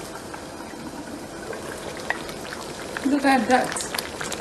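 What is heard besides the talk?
egusi and ogbono soup simmering in a covered pot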